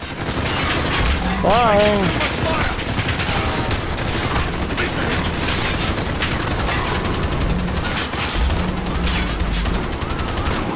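Dense gunfire in the Call of Duty: Modern Warfare campaign, with continuous loud bursts of automatic weapons and booms filling the scene while voices shout over the fighting.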